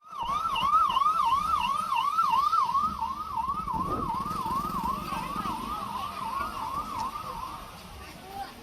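An ambulance siren wails in a fast, repeating up-and-down pattern on the grounds of Gujarat's oldest hospital, loud at first and then fading. Traffic rumbles faintly beneath it.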